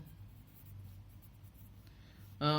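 Pen writing out a maths solution for an integrals-by-substitution exercise, a soft, steady scratch against a low background hum, followed by a short louder tonal sound at the end.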